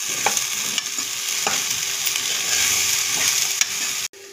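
Boiled chickpeas frying and being stirred in a pan with turmeric, a steady close sizzle broken by scraping stirs and light clatters of the spoon.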